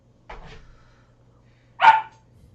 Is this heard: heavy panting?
no